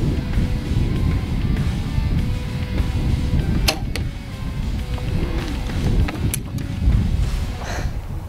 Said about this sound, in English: Today, the wind is blowing towards this river down here